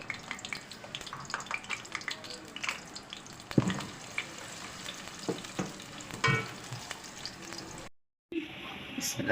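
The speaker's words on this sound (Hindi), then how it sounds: "अब प्याज को हम हल्का सा लाइट ब्राउन करेंगे" Onions frying in hot oil in a karahi for a Peshawari beef karahi, a steady dense sizzle with occasional stirring scrapes, close and continuous, briefly cutting out near the end before resuming.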